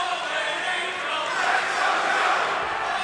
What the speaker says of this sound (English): As we hear the crowd